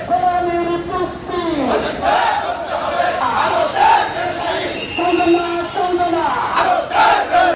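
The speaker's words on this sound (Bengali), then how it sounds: "ঝিনাইদহে ইসলামী আন্দোলনের বিক্ষোভ মিছিল ও সমাবেশ অনুষ্ঠিত।" Protest march crowd at an Islami Andolan rally in Jhenaidah, many voices chanting loudly in rising and falling call-and-response waves, close and continuous throughout.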